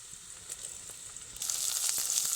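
Squeezed ridge gourd hits a hot wok, a soft steady sizzle that swells suddenly louder halfway through and keeps hissing on its own, close and fairly quiet.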